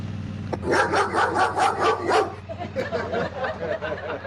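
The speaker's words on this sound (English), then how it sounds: "She has a dog barking horn, and it's loud and it sounds mean." A loud car horn blares a recording of a dog barking, with several sharp, rhythmic barks in a row over low engine hum.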